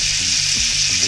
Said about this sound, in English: And throw in nearly a half a stick of butter